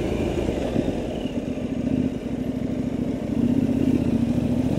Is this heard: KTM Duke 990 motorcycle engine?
yes